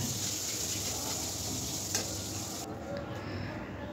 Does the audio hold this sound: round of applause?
no